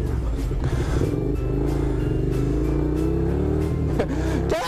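A motorcycle rides along with a close, steady engine drone that rises slightly in pitch, holding a constant low rumble throughout.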